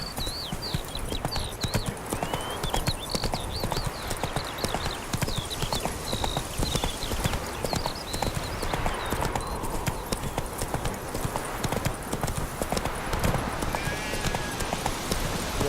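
Horse hooves clip-clop steadily in a brisk trot across the whole stretch, carried along with faint background sounds from the video game The Witcher 3, where the horse Roach is ridden.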